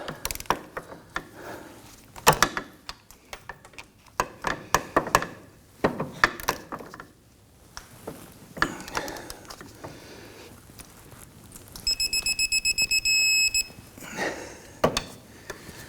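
Ratchet fitted with a long extension tightening the rear wheel hub bolts on a 2015-2024 Nissan Murano, with close, scattered clicks and clanks of tool handling, then a fast, steady run of ratcheting clicks, all without speech.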